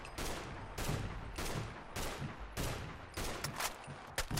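A .308-caliber rifle in Fallout 4 fires about seven loud, evenly spaced shots, each a sharp crack with a short decay, with no pauses of silence between them.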